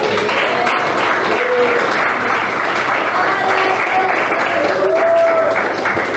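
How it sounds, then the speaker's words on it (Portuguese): A church congregation claps steadily and loudly through the whole stretch, with a few voices calling out faintly beneath the applause. "E bate palmas."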